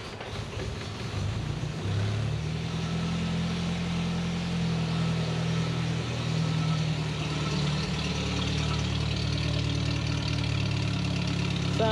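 A Land Rover Ninety's replacement engine, started on choke in the rain, settles into a steady, loud close-up idle with an even low rumble and a slight knocking edge, running alone after a brief rougher start.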